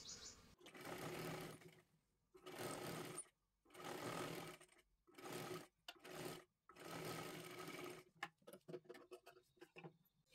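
Short bursts of a sewing machine stitching a katori blouse come in about six separate runs with silent gaps between, followed by a few light clicks and taps.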